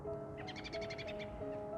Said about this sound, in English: A friendly little bird up there.